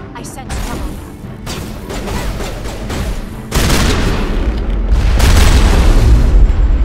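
Loud, sustained booming and crackling blasts in the Mass Effect video game as a Geth transmitter is destroyed. A dense rumble swells and grows heavier partway through.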